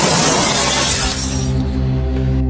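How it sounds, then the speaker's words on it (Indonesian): Violent crash of a commuter train collision in Bekasi, opening with a loud burst of shattering, breaking debris that gives way to a sustained low, droning tonal hum, all dense and close with no voices. "Benturan itu bukan cuma bunyi tabrakan, itu adalah suara ledakan dari ribuan pon tekanan"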